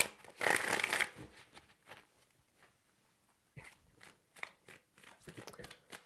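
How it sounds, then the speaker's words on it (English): A deck of tarot cards is riffled in one loud close burst of fluttering at the start, followed by softer, scattered taps and shuffles as the cards are handled. "Three shuffles."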